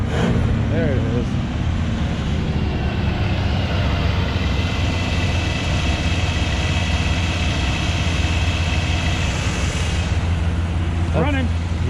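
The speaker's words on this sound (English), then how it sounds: "Yeah, it's still idling really high though." An Oldsmobile Cutlass Supreme fresh from a Rochester carburetor rebuild sits idling high, a steady, even engine drone that holds unchanged throughout with no revving.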